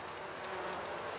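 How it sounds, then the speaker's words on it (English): Honey bees hum in an opened hive of very light yellow bees that may be queenless, giving a steady, close, dense buzz throughout with no talking. "So there's a good number of bees in there."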